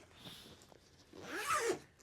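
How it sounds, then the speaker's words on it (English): Zipper on a travel bag being pulled open in one quick rasping stroke, close and fairly quiet, with no talking. "So if I undo the zip here"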